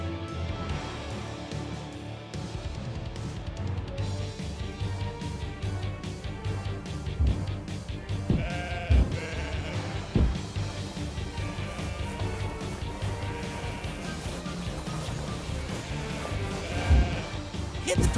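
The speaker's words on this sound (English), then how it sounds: "First, we will tie some of the sheep together to make a giant ball." Sheep in the video game Rock of Ages 3 bleat repeatedly over a busy, continuous backdrop of game music and effects, the cries fairly faint and scattered throughout.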